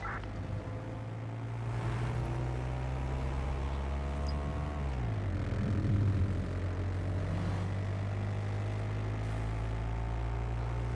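In the video game Watch Dogs: Legion, a steady, droning engine hum of a hovering drone, its pitch dipping and shifting midway, continuous and fairly close with no voices.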